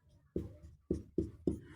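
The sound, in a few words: writing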